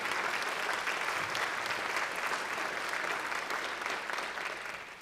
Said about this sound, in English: a round of applause to Human Resources and all the work that they did